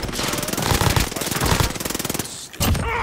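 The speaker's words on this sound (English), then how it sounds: "Taking fire." Rapid automatic gunfire in a video game, loud and close, a steady rattling burst that runs throughout with a brief gap near the end before firing resumes.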